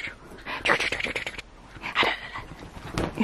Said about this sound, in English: Is that the universal like playing with your dog sound?